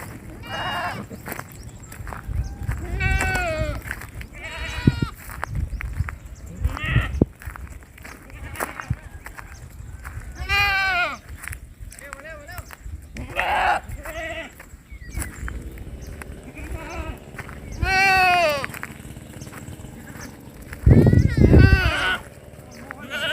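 Goats bleat repeatedly throughout, several calls overlapping near and farther off, with occasional footsteps and shuffling in between.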